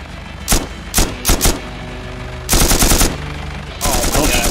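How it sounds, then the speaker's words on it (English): Gunfire at a helicopter in DayZ: several single shots, then rapid bursts of automatic fire, loud and close, with a steady engine hum underneath. "Okay, I'm gonna shoot it."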